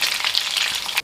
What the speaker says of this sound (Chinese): 煎至五花肉表面变成金黄色。